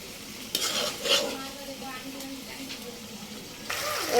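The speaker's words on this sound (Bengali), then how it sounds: "এই যে ছোটোখাটো বাটিতে আলু কুটে রেখেছি, এই আলুটা দিয়ে দেবো" Chopped potatoes go into a pan of frying spices and are stirred in, giving a clatter on the pan followed by a soft sizzle and scraping.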